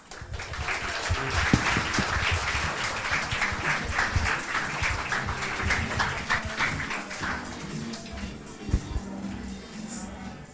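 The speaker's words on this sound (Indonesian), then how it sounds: "Boleh tepuk tangan sekali lagi" A seminar audience at an Indonesian talk on artificial intelligence applauds in a sustained round of clapping that swells and then tapers, with some murmuring underneath.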